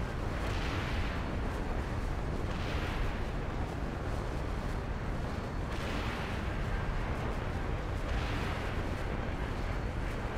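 Missiles fire from a jet in a modded Halo 3 map, a continuous roaring barrage of blasts with a few heavier bursts swelling through the steady rumble.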